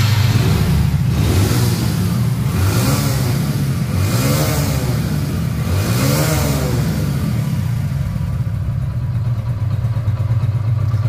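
A 2023 Hero Splendor Plus motorcycle engine runs steadily close by, with several rhythmic throttle blips rising and falling before it settles back to idle.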